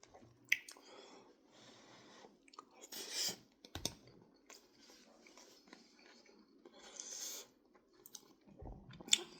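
Close, wet chewing of Panda Express firecracker steak and shrimp with rice, soft squishy mastication with occasional sharper clicks and crunches, fairly quiet, no talking.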